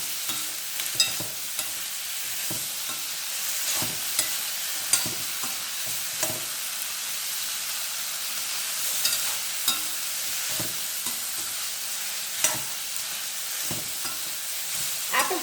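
Small onions frying in hot oil for a chutney give a steady, close sizzle, with scattered scraping stirs and clicks throughout.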